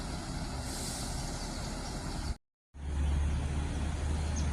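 A Jaya bus pulls into a terminal, its broad engine rumble and road noise cutting out briefly before returning with a deeper idling throb; no distinct air-brake hiss stands out.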